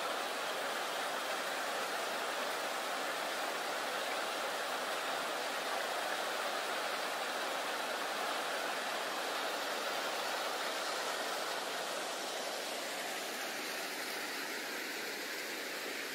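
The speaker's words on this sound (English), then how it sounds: "hear the water running" A stream of running water flows steadily along the Picture Canyon Loop trail in Flagstaff during light drizzle, a broad even rushing hiss heard from nearby, alone without talk.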